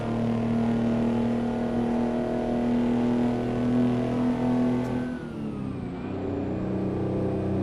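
In American Truck Simulator, an R600 truck engine under heavy load drones loud and steady with rising revs, then drops as the gear shifts and pulls again at lower pitch. No voices are present.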